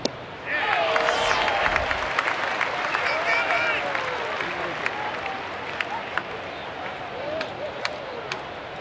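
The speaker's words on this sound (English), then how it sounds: "The applause is becoming a little more rousing." Baseball stadium crowd applauding during an afternoon game, a steady broad wash of clapping that swells slightly and carries on for several seconds, with a voice talking over it.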